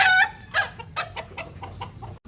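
A gamefowl rooster kept for hardening clucks in a burst, then gives a string of softer, spaced clucks, fairly close and alone.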